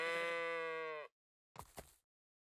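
A goat in an online video game mod gives one long, clear, wavering bleat, loud and close, then a short rough bleat after a brief silence.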